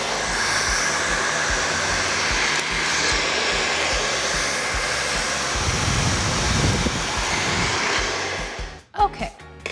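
Hair dryer blowing steadily at close range while hair is blow-dried straight, a continuous whooshing roar holding for most of the stretch before cutting off near the end with a few brief handling knocks.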